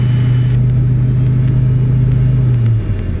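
Diamond motor glider piston engine droning loudly, then winding down and cutting out as the throttle is pulled back, the prop is feathered and the ignition is switched off, the hum dropping away near the end.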